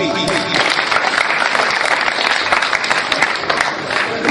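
An audience at a Punjabi-Urdu poetry mushaira in Hadali breaks into loud, sustained applause, a dense wash of clapping hands that holds steady throughout with some crowd noise mixed in.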